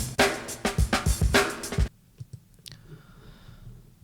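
A one-measure drum break sample plays loud and tight, with rapid kicks, snares and bright cymbal wash, then cuts off abruptly into near silence with a few faint clicks.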